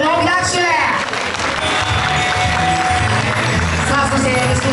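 Audience applause at an anime-song dance battle event, a steady dense wash of clapping and crowd noise with voices mixed in, sustained and loud throughout.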